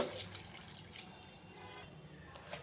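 Water is poured into a pressure cooker pot holding onion, garlic, turmeric, salt and cumin masala powder for sorrel-leaf dal, a faint, steady trickling and splashing close by.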